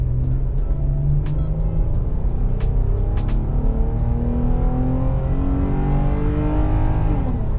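Fourth-generation Ram 1500 pickup truck without eTorque accelerating at full throttle, engine note rising steadily through a long pull and dropping briefly at a gear change, heard loud and close from inside the cab.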